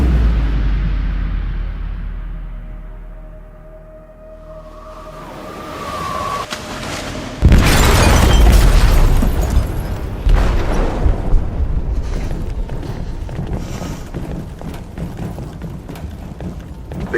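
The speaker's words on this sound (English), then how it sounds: "They detonated an explosive in the hold" A loud, deep explosive blast goes off in the hold of a ship in a video game, bursting in suddenly after a quiet stretch and rolling on as a heavy, sustained rumble with crackling debris.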